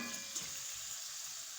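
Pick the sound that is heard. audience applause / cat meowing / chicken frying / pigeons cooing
chicken frying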